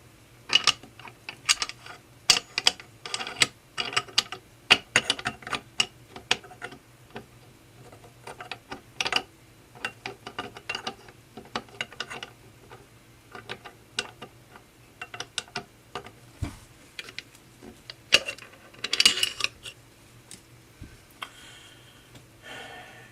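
A bolt is worked out of a Ruger Mini 14 tactical rifle with a Simmons scope mounted, giving a long series of sharp metallic clicks and clacks spaced irregularly over a quiet background.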